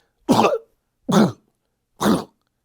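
A voice imitates an odd throat-clearing noise: three short, gruff, evenly spaced bursts, close up, with silence between them.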